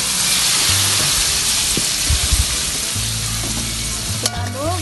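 Steady sizzling of a frying mixture seasoned with black pepper, stirred in a pan for a pastry topping, with scraping and knocking of the spoon through the continuous hiss; no talking.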